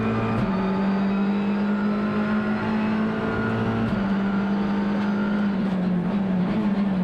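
Heard onboard, an Alfa Romeo Giulietta Veloce TCR race car with a paddle-shift gearbox drones loud and steady in a strained engine note during a 2019 TCR Australia race in Queensland, dropping briefly at two quick gear changes.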